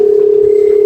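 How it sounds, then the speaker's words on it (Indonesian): Steady, loud telephone dial tone from a handset at a library museum exhibit, a single continuous hum with no breaks or voices. "Telepon."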